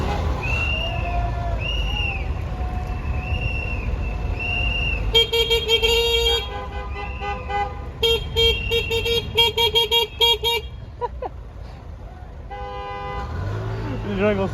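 Horns honk repeatedly on a street during a ride, with short bursts and longer blasts from several vehicles over steady traffic noise and faint voices, some loud and close, others farther away.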